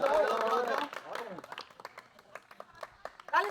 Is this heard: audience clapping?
yes